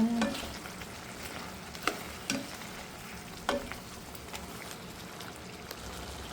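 Shrimp frying in a pan, stirred while cooking: a steady faint sizzle with a few sharp scraping and clinking accents from the utensil at irregular moments, heard alone with no talk.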